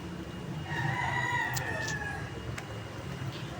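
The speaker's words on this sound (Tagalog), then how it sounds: "May manok pa rin." A rooster crows once at a distance, a drawn-out call rising over steady outdoor street ambience while walking through a neighborhood in the morning.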